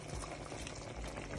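Jamaican curry chicken simmering in a pot with added warm water, a steady close bubbling boil with dense hissing texture throughout, no talking.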